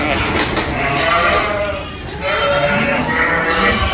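Sheep bleating around a feeder on a windy day, several overlapping bleats close by with wind buffeting and a person talking between the calls.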